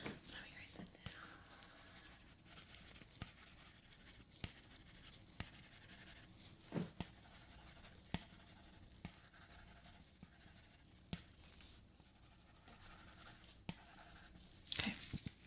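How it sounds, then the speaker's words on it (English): A pen scratches out notes during a realistic ASMR doctor checkup, with soft intermittent strokes and taps close to the microphone and faint whispering in between. "Let me write that down."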